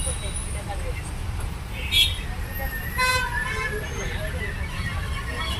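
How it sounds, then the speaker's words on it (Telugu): City bus pulling away through hot, busy street traffic, a steady low rumble with horn toots rising around the second and third seconds, background chatter and road noise throughout. "బస్సు మూవ్ అయింది"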